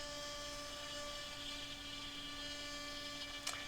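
A CNC machine cuts a dado into a wooden panel for a Slovenian beehive, giving a steady high whine with a constant hum beneath and a brief sharp burst near the end.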